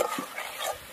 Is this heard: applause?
no